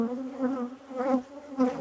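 Honeybees buzz around an open brood frame during a hive inspection, a close, steady droning hum that swells and fades in waves.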